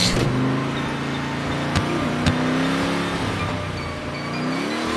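A car engine in the video game Ice Scream hums steadily with rising and falling revs, a couple of sharp clicks cutting through, close and fairly loud with no talking.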